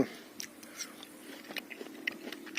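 Close, quiet crunching as teeth bite into a firm Vzlotnaya Polosa table grape, with a few sharp crisp snaps followed by soft chewing.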